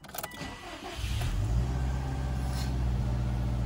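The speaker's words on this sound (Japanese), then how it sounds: "ちょっとエンジンをかけてみたいと思います。" The engine of a used Subaru Impreza WRX STI 2.0 4WD with 91,000 km cranks briefly with a starter whir, then catches and settles into a steady, close idle rumble.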